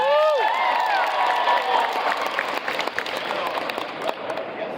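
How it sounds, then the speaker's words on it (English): A comic-con crowd applauds loudly for a voice actor with steady clapping and some cheering, the applause gradually thinning out toward the end. "Everybody give him a big round of applause."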